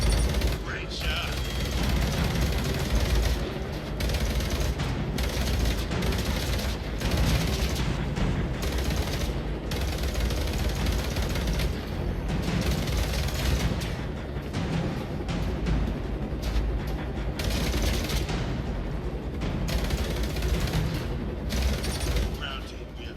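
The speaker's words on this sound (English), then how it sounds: "the second half of the game was shooting at zombies and a lot of creatures, a lot of noise" Gunfire from shooting at zombies and creatures in a video game, a dense, continuous barrage of mechanical clatter and bursts running loud throughout, with game voices talking over it.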